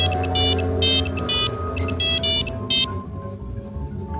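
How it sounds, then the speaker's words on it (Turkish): A telephone rings in a Turkish crime documentary, bursts of electronic trilling repeating several times before stopping, loud over a low background hum. "bir gün Özlem Timur ayrılmak istediği eşini arar."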